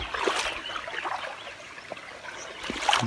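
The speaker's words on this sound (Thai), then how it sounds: "น้ำตกเล็กๆ ไหลลงมาครับ" A small woodland waterfall flows down with a steady, close trickling and splashing rush, moderately loud and continuous, with no voices.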